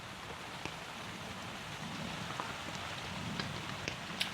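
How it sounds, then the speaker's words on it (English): Faint, steady rain patters in the background with occasional louder drips, no voices. "with it raining like this,"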